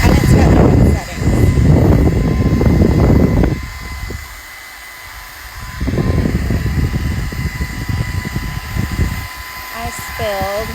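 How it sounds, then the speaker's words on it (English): A portable cordless car vacuum cleaner whirs loudly at close range, its motor note shifting between settings, with a brief quieter stretch midway before the steady drone resumes. "Okay, so we're gonna vacuum some stuff up here, and it's got different settings."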